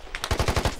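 Video game gunfire in a multiplayer squad match, a rapid burst of about six automatic shots fired in quick even succession, loud and close with no talk over it.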